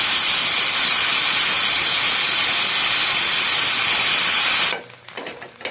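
Loud, continuous steam hiss from a pressure cooker venting, which cuts off abruptly near the end, leaving quiet background sounds.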